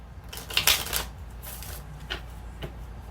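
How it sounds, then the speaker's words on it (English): Tarot cards being shuffled in quick riffling bursts, a crisp flutter followed by a few soft taps as the deck is squared, close and quiet. "Alright, we're going to do a quick shuffles for connecting energy"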